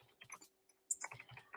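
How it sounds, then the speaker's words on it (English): Light typing on a computer keyboard, a few quiet bursts of key clicks separated by short pauses, close and faint with no voices over them. "I'm typing something here."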